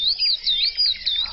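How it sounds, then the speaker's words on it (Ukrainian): Springtime songbirds sing outdoors in clear, bright repeated warbling chirps and trills, close and fairly loud, with no other sounds or voices. "А ось спів пташок з кожним днем ставатиме все більш дзвінким"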